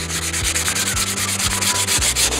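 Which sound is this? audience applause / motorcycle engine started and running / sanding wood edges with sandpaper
sanding wood edges with sandpaper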